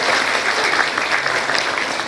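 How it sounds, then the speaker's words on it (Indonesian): Dense, continuous applause from a large crowd fills a children's storytelling workshop, loud and close with no gaps. "Tepuk tangan untuk semuanya"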